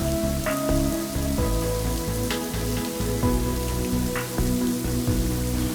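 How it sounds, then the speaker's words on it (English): An artificial downpour falls in the Sharjah Art Foundation rain room installation, a steady wash of water hitting the floor with scattered sharper drips over a low continuous indoor hum. No voices. "Here they've installed a rain room which allows people to walk through a downpour without getting wet."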